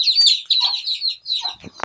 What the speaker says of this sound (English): We got chickens